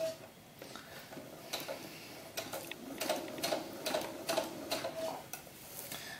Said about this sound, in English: and then just start sewing.